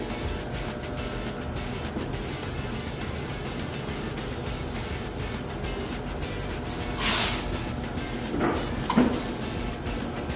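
A paint spray gun laying base coat on a 1978 CJ5 in a restoration shop gives short hissing bursts late on, over a steady background rumble.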